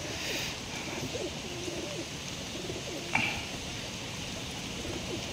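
Pigeons coo steadily and continuously on a Giribaj pigeon farm, several birds overlapping in a dense, close murmur with one brief sharper call partway through.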